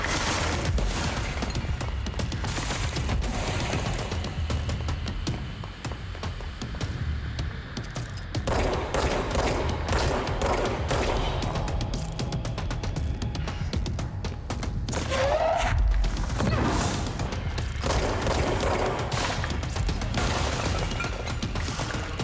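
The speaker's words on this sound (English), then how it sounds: "Someone is shooting at me." Gunfire aimed at the player in the video game Control, dense repeated bursts of shots and booms running almost continuously at close range.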